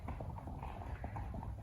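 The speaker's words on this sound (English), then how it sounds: "There's a bunch of horses, and it looks like woods" Horses walking on a woodland trail, a run of soft rhythmic hoof clops over a dull, steady outdoor background.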